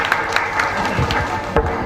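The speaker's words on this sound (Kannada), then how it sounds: "ಇನ್ನೊಂದ್ಸಲ ಇವರಿಗೆ ಜೋರಾಗಿ ಚಪ್ಪಾಳೆ ಕೊಡಿ" Brief burst of crowd applause at a rural children's dance academy's first annual function, a diffuse wash of clapping and crowd noise with a few sharper claps.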